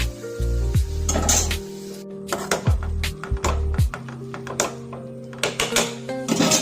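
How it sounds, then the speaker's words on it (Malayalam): Grated coconut with salt and turmeric stirred in a pan, giving a close run of scraping and clinking strokes with soft sizzling between them, broken by brief pauses. "ഇത് വഴലുമ്പോൾ ചിരകി വെച്ചിരിക്കുന്ന തേങ്ങയിലിട്ട് ഇളക്കാം"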